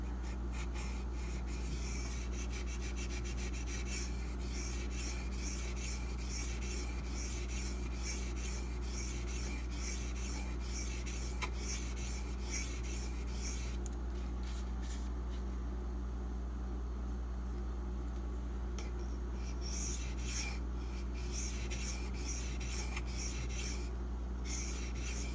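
Steady rasping strokes of a Boker Kihon D2 steel knife blade worked against a sharpening stone, continuous and close over a constant low hum, with brief pauses and bursts of brighter scraping.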